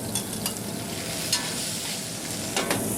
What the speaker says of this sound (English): we've got the onions lightly seared in olive oil in this pot